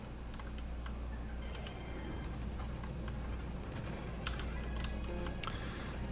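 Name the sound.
typing on a computer keyboard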